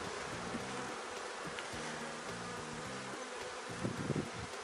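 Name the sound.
honey bees buzzing during beehive inspection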